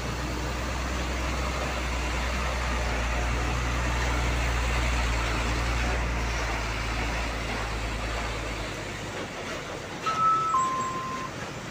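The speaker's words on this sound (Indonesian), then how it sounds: "ini ada truk besar masuk" A big truck rumbles into a restaurant parking area in Jambi, its deep engine drone steady and close for several seconds before fading, followed by a brief horn-like tone.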